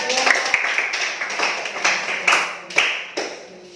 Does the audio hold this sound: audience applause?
yes